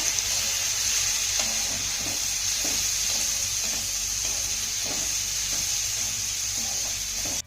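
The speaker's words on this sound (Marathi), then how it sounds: "आता या घातलेल्या भाज्या आपल्याला एक ते दोन मिनिटं चांगल्या परतून घ्यायच्या" Chopped carrot and beetroot sauté in a pan, a steady close hiss of frying with soft scraping stir strokes recurring throughout.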